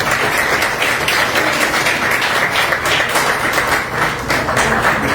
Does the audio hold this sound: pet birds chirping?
no